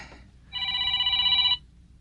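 A cellphone rings once in a quiet room, a single clear electronic trill lasting about a second, close and alone.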